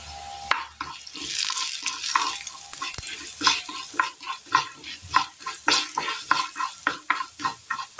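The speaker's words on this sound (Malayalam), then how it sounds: "എണ്ണയൊന്ന് നല്ലപോലെ ചൂടായി വരുമ്പോൾ നമുക്ക് ഇതിനകത്തേക്ക് ഒരല്പം ഉഴുന്നിട്ട് കൊടുക്കാം" Urad dal crackling in hot oil in a pan, an initial burst of sizzle followed by a steady series of rhythmic stirring scrapes over a continuous frying hiss, close and with no talking.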